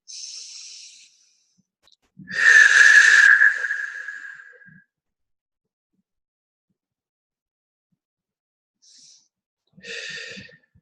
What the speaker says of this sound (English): So everyone take a deep breath in.